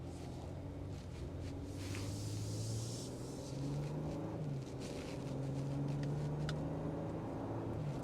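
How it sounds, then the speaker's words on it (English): Inside the cabin of a 2025 Nissan Armada Platinum Reserve, its twin-turbo V6 hums low and steady, rising and falling slightly as the SUV drives, with a soft wash of road and wind noise around it. "Only thing I could really hear is that twin turbo V6"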